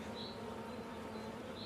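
Honey bees buzzing at a hive during a queen introduction, a faint, continuous, even drone of many wings with no voices over it.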